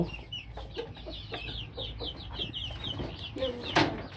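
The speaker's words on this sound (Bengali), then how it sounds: "মুরগির বাচ্চা হল এগুলা নতুন বাচ্চা এরা আরো নতুন বাচ্চা" Hens and young chicks cluck and cheep continuously in a busy, close group, with one sharper call standing out near the end.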